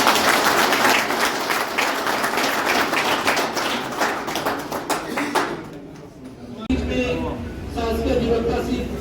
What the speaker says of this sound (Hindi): एक बार आप लोग ताली बजाते हैं।